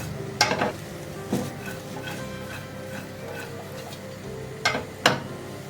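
Egg and vegetable fried rice being stirred in a pan, with a steady background sizzle broken by a few sharp scrapes and clinks of the utensil against the metal, close and fairly loud.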